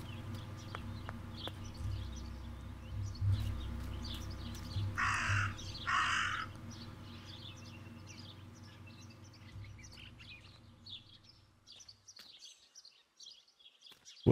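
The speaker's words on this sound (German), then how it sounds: "Warum kratzt der Rabe ständig?" A raven in the horror game Martha Is Dead caws twice in a harsh pair, set against a low steady ambient drone that fades out near the end, with no one speaking.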